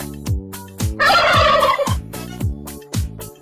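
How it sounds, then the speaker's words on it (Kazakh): A turkey gobbles in a loud, rapid warbling burst, set against a steady rhythmic musical backing with regular beats. "Күркетауық."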